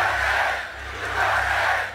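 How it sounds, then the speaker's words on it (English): Large outdoor political rally crowd in Butler chanting in rhythmic swells, a distant massed roar rising and falling twice over a low steady hum. "This is a big, big, beautiful crowd."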